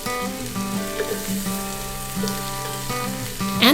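Garlic frying in oil alongside browned smoked, cured Portuguese pork sausage, a close, continuous sizzle with light pops, heard under background music.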